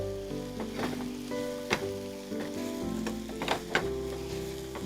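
Onions with a little salt frying in a pan give a steady low sizzle, with occasional stirring scrapes and soft clatters rising above it, fairly quiet and close, with no voices.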